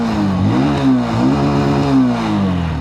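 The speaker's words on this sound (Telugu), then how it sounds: "సింగిల్ కిక్కే ఈ వెహికల్ అయితే స్టార్ట్ అయింది." A 2025 Bajaj Platina 100 motorcycle engine, started with a single kick, runs loud and near, revving up and easing back several times in a smooth, steady rhythm.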